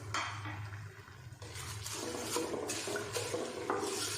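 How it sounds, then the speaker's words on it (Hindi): Half a cup of water goes into a pan of roasted vermicelli and nuts for khoya seviyan. It makes a close, hissing, splashing pour that swells after a moment and holds for a few seconds, with no talk. "अब इनमें आधा कप मैंने पानी का डाल दिया है"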